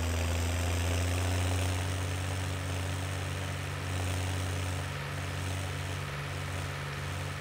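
A Kramer KL714 vintage tractor engine in Farming Simulator 17 idles steadily with a low, throbbing drone that holds constant, with no talk over it.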